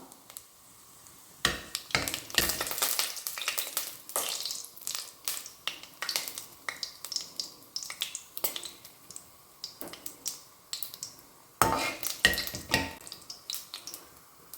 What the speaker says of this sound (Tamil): எண்ணெய் சூடாகிடுச்சு இப்போது தாளிப்புக்கு தேவையானதெல்லாம் போட்டு பொரிய விட்டுடலாம்